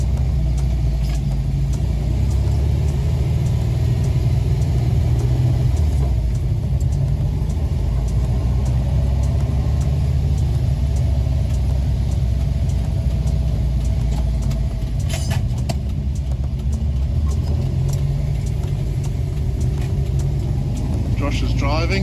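Steady low engine rumble and road noise from a Volkswagen car cruising down the coast from Hillary's towards Fremantle in Western Australia, continuous and close throughout, with faint talk mixed in.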